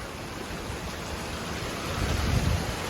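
Strong wind during artificial cloud-seeded rain in Dubai gives a steady broadband rush that swells louder toward the end, with no talk over it.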